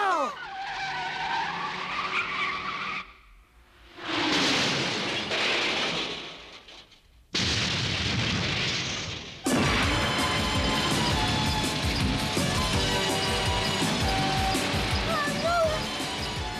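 A cartoon car with no brakes skids in long screeching slides, drops briefly quiet, then smashes into a loud crash followed by clattering, ringing debris.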